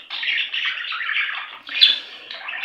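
Young budgerigars in their bird room chirp and squawk continuously, a dense, bright chatter of overlapping calls with a louder burst near the end, close and steady throughout.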